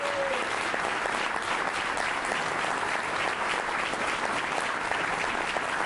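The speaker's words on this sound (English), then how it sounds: "if everybody can give applause to all the state representatives for the lifetime of service they've given" A crowd gives sustained applause for state representatives at a political announcement, loud dense clapping at an even level from start to finish, with no voices standing out.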